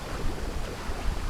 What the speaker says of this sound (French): il y a la cascade!